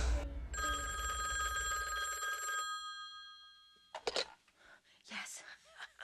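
An old-style telephone bell rings loudly in a steady trill in a scene from the 1994 horror film Wes Craven's New Nightmare, then stops and gives way to brief gasps and movement.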